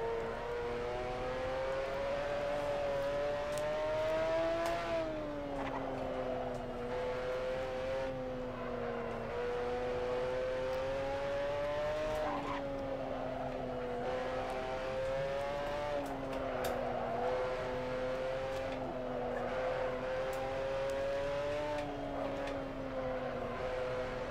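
A McLaren F1 GTR race car's engine drones and revs in Assetto Corsa at Suzuka, its pitch climbing and dropping through gear changes in a long, steady run without talk.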